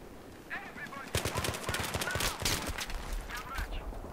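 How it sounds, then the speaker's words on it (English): Gunfire in the video game Battlefield 3, a burst of rapid shots in quick succession, with faint in-game noise and explosions around it. "I was shooting right at him."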